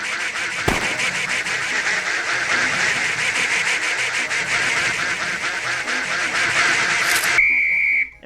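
Ducks in the Crazy Party video game quack in a dense, continuous chorus at steady loudness, with a sharp hit early on and a clean tone near the end before the sound cuts off.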